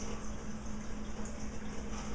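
Water from two 28-ounce cans pours into enchilada sauce mix with tomato sauce, making a steady, close rushing splash that runs without pause.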